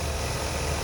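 A 2-liter 4-cylinder engine in a Hyundai Sonata Hybrid idles steadily with the hood open, a low continuous hum and rumble heard up close with no talk.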